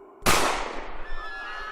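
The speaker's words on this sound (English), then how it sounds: "Just hear the gunshot." A single loud gunshot cracks suddenly and close, followed by a long decaying echo that rings out over the next second and a half.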